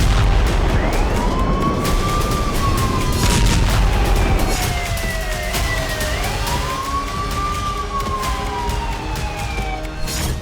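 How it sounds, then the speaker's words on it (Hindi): An air raid siren in Ukraine at night gives a long, rising and falling wail over steady rumbling background noise, sounding several cycles, loud and carrying. "थर्राती रात और डराती सायरन की आवाज"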